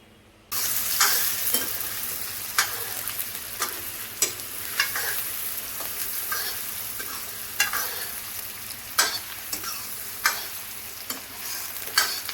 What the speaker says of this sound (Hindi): तब ये फ्राई करती हूँ प्याज